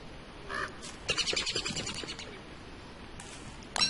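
Bird calls from the video game Don't Starve: a few short, bright chirping bursts, one near the start and a longer run of rapid chirps in the middle, then another brief call at the end, fairly close and clear over low background.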